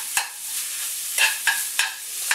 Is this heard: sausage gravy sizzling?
yes